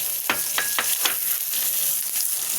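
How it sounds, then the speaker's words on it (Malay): Onion and garlic sautéing in a pan for a fried anchovy and dried chili dish, a steady close sizzle with several bright scraping stirs of a utensil near the start, no talking. "Kita tumis tu bawang besar dengan bawang putih ni ya."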